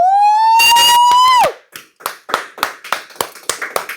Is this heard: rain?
no